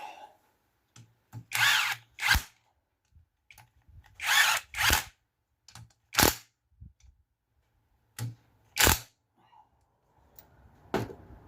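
A power tool tightens bolts on a Peugeot rear-wheel-drive differential in a series of loud, short whirring bursts, separated by silent pauses and occasional light metallic clicks.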